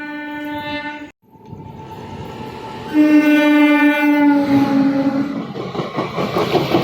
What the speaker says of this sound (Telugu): పార్సిల్ వ్యాన్ వచ్చిందండి ట్రైన్ ఎక్కడ స్టాప్ ఉందిగా కానీ ఆకుండా వెళ్ళిపోతుంది